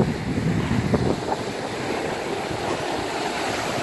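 Ocean waves washing against the shore of Bass Strait with steady wind buffeting the microphone, a continuous broad roar that stays loud and close throughout.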